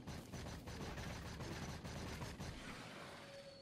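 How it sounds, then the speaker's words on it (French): Sustained gunfire from a firefight in the video game The Cycle, dense overlapping shots forming a loud, continuous rattle that holds steady for several seconds before easing slightly, with no voices. "Ouais, je les entends tirer, ils sont là."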